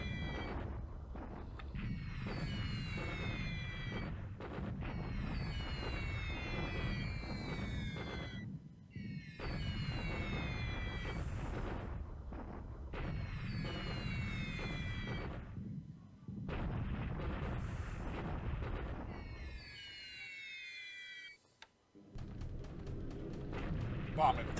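Airfield bombing in a World War II strategy game set in the Pacific, Japan against the Allies: continuous rumbling booms and distant blasts under layered game sound effects, with repeated swelling bursts and pauses, fairly faint overall.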